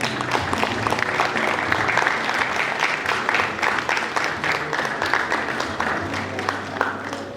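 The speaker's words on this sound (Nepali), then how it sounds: "कृपया जोरदार ताली।" Loud, dense audience applause at an evening event in Nepal, many hands clapping steadily for several seconds and tapering slightly toward the end, with faint voices mixed in.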